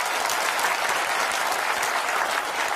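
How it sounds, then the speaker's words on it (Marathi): A crowd at a political speech on saving the Constitution in Maharashtra breaks into loud, sustained applause, dense and even clapping from many hands filling the space throughout. "त्यांच्यासाठी दोघांसाठी एकदा टाळ्या वाजवा जोरदार"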